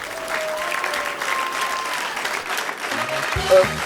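Audience applause at a live Armenian stand-up comedy league show, with the crowd clapping to vote. It is a dense, steady roar of many hands for about four seconds, with faint voices and a tone underneath.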